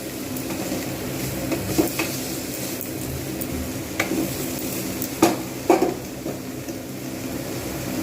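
Chili and turmeric powder frying in a pan for a cauliflower-poppy-seed curry give a steady close sizzle, with several brief scraping stirs of a utensil against the pan.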